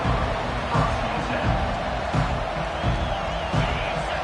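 Football stadium crowd roaring steadily in a packed home venue, a dense continuous wash of cheering with small surges throughout, loud and enveloping with no clear talk.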